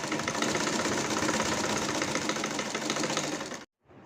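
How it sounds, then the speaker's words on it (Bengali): A sewing machine runs continuously at close range while stitching a bra shoulder strap, a dense, fast rattling whir that holds steady for about three and a half seconds and then stops abruptly. "ব্রা সেলাই করছি"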